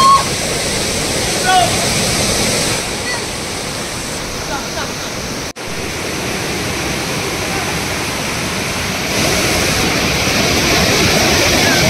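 Steady, loud roar of a waterfall near Rottikallu resort in Sakleshpura, a broad continuous rush of falling water that swells slightly toward the end, heard alone without talk.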